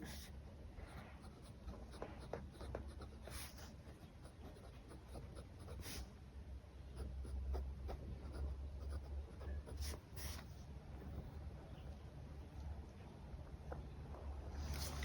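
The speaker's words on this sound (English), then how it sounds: "let's see how my bigger writing goes" A fine nib fountain pen scratches across paper in a steady run of soft, close strokes, with faint pauses between words over a low background hum.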